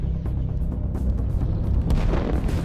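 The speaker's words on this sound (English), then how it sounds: "As you can see, the rockets have been fired." Rockets firing in the strategy video game Line War, a dense, rumbling barrage of overlapping booms, loud and continuous throughout.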